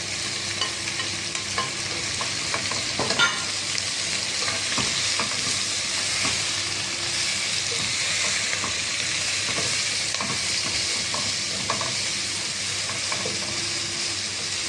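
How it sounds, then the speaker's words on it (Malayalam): Crushed garlic, ginger and green chili with curry leaves sauté in a pan for a chicken sausage fry. A steady hiss of frying runs throughout, dotted with scattered clicks and scrapes of stirring. "ഇതും കൂടെ ആ കൂടത്തിൽ ഇട്ട് നമുക്ക് വഴറ്റാം."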